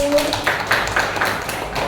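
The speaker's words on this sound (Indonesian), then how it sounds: "Tepuk tangan Nandaru." Schoolchildren in an Indonesian classroom clap together in a steady rhythmic pattern of sharp bursts, with a murmur of voices running underneath.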